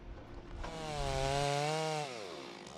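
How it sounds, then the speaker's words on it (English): A chainsaw revs up from idle to a loud, steady high-pitched whine, holds at full throttle, then drops back down, heard alone at close range. "The chainsaw."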